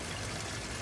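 Water building up on a pond filter screen in a pond installation with an Oase Screenmatic filter, a steady rushing trickle with no break.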